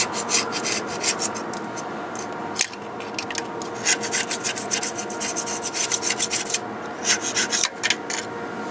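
Hand scraping and rasping as an old gasket is cleaned off the engine's water pump mounting surface on a 1998 Sonoma pickup, a steady run of close, gritty strokes with brief pauses.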